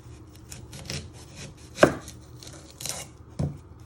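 A knife chopping the ends off an onion on a cutting board, a few separate close thuds spaced unevenly, one sharp and loud in the middle, with soft handling noises between and no talk.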